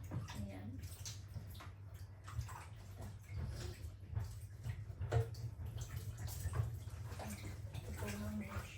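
Water runs and splashes faintly into a basin or tub where an item is left to soak, a soft, steady trickle with small clinks and drips.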